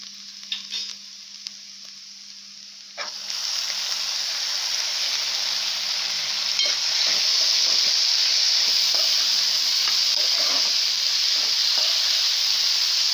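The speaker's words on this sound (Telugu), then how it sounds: "టమాటా వేసుకొని బాగా కలుపుకొని ఒక 5 మినిట్స్ టమాటా మగ్గేంత వరకు ఉంచుకోవాలన్నమాట." Tomatoes sizzle loudly as they fry in a pan of ivy gourd curry, a steady hiss that swells after a few seconds, with scattered scrapes and taps of a spoon stirring through it.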